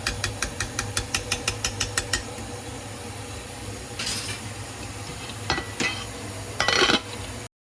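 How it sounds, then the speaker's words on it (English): Spoon clinking against a crock pot while stirring meatballs, a quick run of about a dozen evenly spaced metallic taps, then scattered scrapes and clinks, close and fairly quiet. "You have to just get them stirred around because it is very tight"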